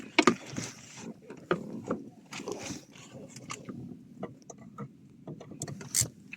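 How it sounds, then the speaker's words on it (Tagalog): A mechanic tightening the parking brake adjuster nut on a car, with faint intermittent ratcheting clicks and small metallic taps in a quiet workshop. "Higpitan lang natin yung pinakanat niya."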